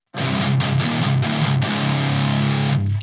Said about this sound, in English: it's just kind of like a standard 90s guitar tone using Soldano by Neural DSP